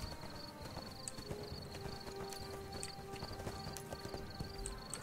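Horse hooves patter faintly in the ArcheAge video game, a steady rhythmic clopping low under game ambience and a sustained tonal hum, with no speech.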